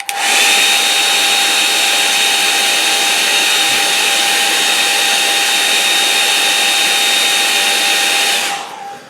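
A hair dryer blows steadily to dry wet watercolour paint on a snowy hills landscape, a loud continuous whirring roar held for about eight seconds before switching off.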